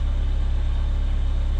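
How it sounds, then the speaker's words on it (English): Car engines idle with heaters blowing, giving a loud, steady low rumble with a regular pulsing throb and a broad airy hiss over it, and no voices. "I've got engines running, heaters on."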